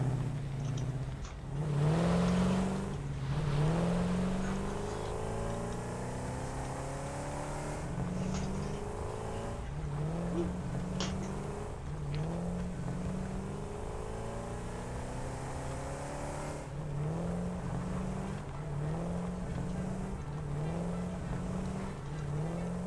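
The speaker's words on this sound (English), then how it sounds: "We'll use the car." A car driving in the factory-building game Satisfactory, a steady droning engine that rises in pitch again and again as it accelerates and shifts, continuous and moderately loud throughout.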